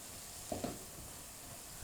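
Minced keema cooks in a pan over a slow flame with a faint, steady sizzle and a couple of soft stirring knocks, quiet and close, with no talk.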